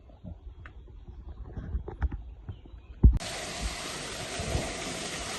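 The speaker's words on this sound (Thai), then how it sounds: "น้ำตกตาดคมงาม" Tat Khom Ngam waterfall in a Laos national park: after a few seconds of quiet rustling and small knocks, a steady, loud rush of flowing water suddenly takes over and continues evenly.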